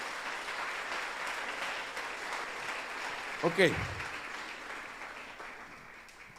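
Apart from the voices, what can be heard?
church congregation applauding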